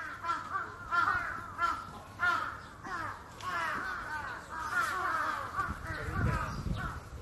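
Crows caw in a Japanese setting, with repeated harsh calls from several birds rising and falling in overlapping bursts, moderately close, over faint background noise.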